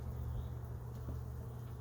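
Honeybees buzzing around an open hive during a check of its frames, a steady close drone that holds through the whole stretch with no talk over it.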